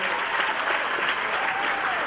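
Audience at a gala dinner, a Freedom Fund Dinner, bursts into steady, dense applause, a continuous wash of clapping from a crowd with no voices standing out.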